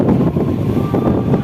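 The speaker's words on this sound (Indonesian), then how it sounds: "Bisa kalian dengar sendiri suara anginnya sangat kencang ya." Strong night wind at Bakauheni ferry harbour buffets the microphone in a loud, continuous rushing roar.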